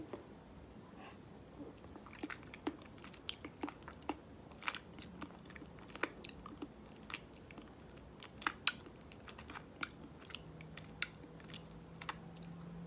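Sticky macapuno coconut flesh being chewed near the mouth, quiet wet smacking and soft crunchy clicks repeating irregularly, faint and close, without talking.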